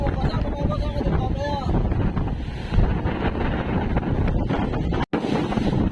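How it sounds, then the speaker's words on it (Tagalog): Strong wind on a fishing boat in rough Pacific Ocean waves buffets the microphone in a constant loud roar, with choppy water and faint voices underneath. "Malakas ang hangin."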